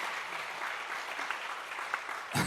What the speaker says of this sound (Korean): 동의를 하시면 좀 박수를 한번 쳐보세요